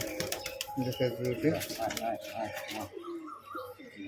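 Domestic pigeons, including Kaldoma chicks, Lal Chhapka and Kalanka Madras birds, coo in low repeated bursts close by at a home loft, heard under steady talking.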